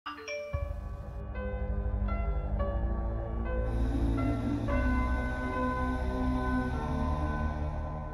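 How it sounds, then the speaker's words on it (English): A phone rings out with a string of bright, bell-like electronic tones that step in and sustain, sounding fairly clear and moderately close in a quiet room. "I apologize for my phone that keeps going off in the background."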